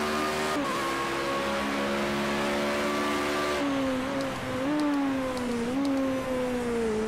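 A racing car engine in the video game Project CARS 2 holds a high, steady whine, then drops and rises through gear changes and throttle lifts on slow hairpin corners, loud and continuous.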